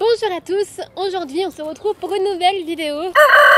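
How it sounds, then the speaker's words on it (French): Roosters crowing in the countryside, heard outdoors beneath a person talking in French, with a louder, brighter crow rising at the very end. "Je suis dehors en pleine campagne, donc il y a des coqs qui chantent autour de moi."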